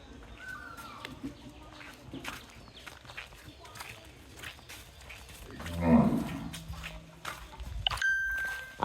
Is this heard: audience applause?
no